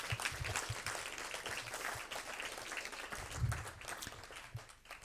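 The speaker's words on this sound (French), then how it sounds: "Est-ce qu'on peut applaudir ce Dieu ?" Congregation applauding in a church service, a faint dense patter of many hands clapping, steady for several seconds and tapering near the end.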